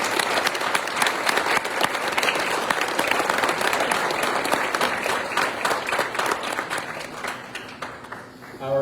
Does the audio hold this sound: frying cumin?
no